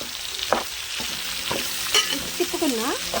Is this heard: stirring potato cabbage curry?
yes